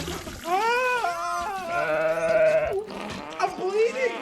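A sheep bleats in long wavering cries with strong harmonics, loud and close, followed by further warbling bleats and a voice speaking in between.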